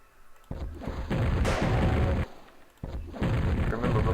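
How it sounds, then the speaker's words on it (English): A rocket launcher in a Unity-made video game fires repeatedly, each launch a sudden loud boom followed by a sustained roaring rush that cuts off abruptly, three or four blasts in a row. "If I shoot the rocket, it actually faces forward, no matter which direction I face."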